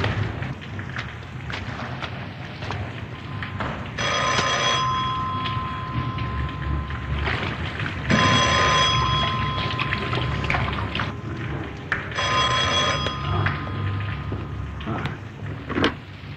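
A telephone rings in a home, three evenly spaced ringing bursts about four seconds apart, fairly loud over a rough, noisy background.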